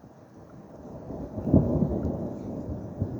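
Thunder rumbles through a severe thunderstorm at Cromford, Derbyshire, a low rolling roar that builds and peaks midway with a louder crack-like swell before easing, rain hiss faintly underneath.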